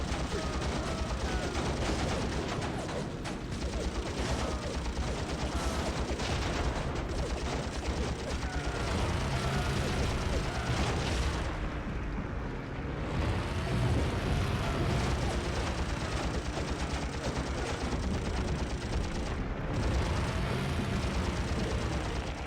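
Heavy gunfire and explosions pound away as Betty bombers attack a carrier during the Battle of Leyte Gulf in Heroes of the Pacific on PS2, a loud, dense and continuous barrage with a faint voice underneath.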